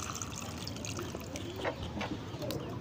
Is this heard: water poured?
yes